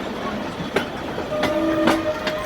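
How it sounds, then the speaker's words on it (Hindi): Railway carriages are towed by a locomotive toward Rawalpindi station, with rolling rail rumble, rhythmic clicks and sustained horn-like tones heard nearby. "और ये बोगीज़ हैं जिनको टो किया जा रहा है, PH टो कर रहा है।"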